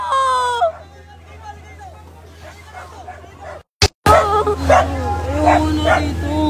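A dog barks and yips in quick bursts close by during a fire in Tondo, Manila, mixed with people talking and calling out over a steady background hum.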